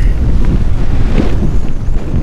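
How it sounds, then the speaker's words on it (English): Strong coastal wind at the Freeport jetty buffets the microphone in a loud, steady roar with low rumbling gusts that last throughout. "yeah, pretty windy"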